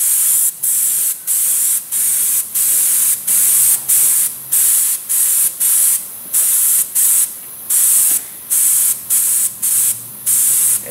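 Fluorescent green liquid tack coat sprayed onto metal in repeated loud hissing bursts, each lasting about half a second to a second with short gaps, close up and continuous in rhythm.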